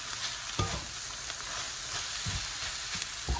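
Noodles stir-fried in a pan for Indonesian mie goreng: a continuous sizzling hiss broken by several irregular scrapes and clacks of a utensil tossing the food, close and with no speech.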